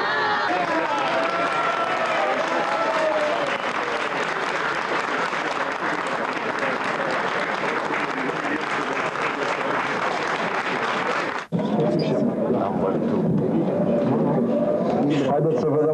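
Steady audience applause from a crowd during a Romanian election results broadcast, dense clapping continuing throughout with a brief cut near the end, talk mixed in.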